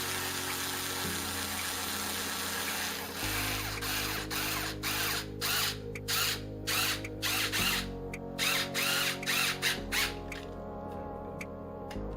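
A power drill drives a bolt into a plastic vacuum attachment holder for a Shark vacuum, with a steady motor whine that shifts pitch and then breaks into repeated short pulses near the end.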